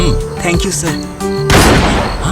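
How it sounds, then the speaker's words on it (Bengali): A gunshot goes off inside a building, a single loud sharp burst that rings out after a moment of people talking. "এটা শিওর গুলির শব্দ, আর গুলি বিল্ডিংয়েই চলেছে"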